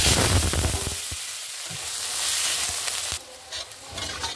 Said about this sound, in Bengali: এই তেলে এখন পেঁয়াজটা ভেজে নেব